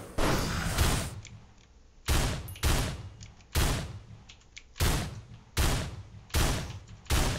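A shotgun-like weapon fires in the video game Risk of Rain: seven or eight loud, sharp blasts in an irregular rhythm, each cutting off quickly with a short tail, with no talking.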